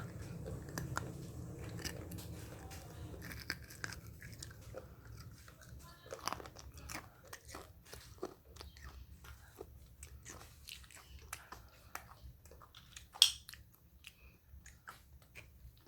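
Close, quiet crunching and chewing of crisp jelly candy, with many small sharp crackles over a long stretch and one louder bite near the end.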